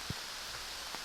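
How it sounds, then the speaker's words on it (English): Rain falls steadily outdoors on a river-bottom hunt, a faint, even hiss of drops with a couple of soft, close taps. "See what this rain does."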